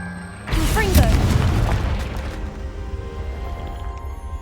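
Confringo blast spell in Hogwarts Legacy: a sudden explosive boom that hits near and loud, then a rumbling tail that fades over a few seconds.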